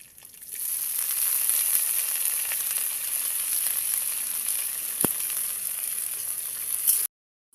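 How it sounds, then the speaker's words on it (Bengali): Bottle gourd and potato hit hot oil with browned onion in a pan, setting off a loud, continuous bright sizzle that holds steady for several seconds, with a single sharp clink near the end before it cuts to silence. "আমি এবার লাউটা আর আলুটা দিয়ে দিব।"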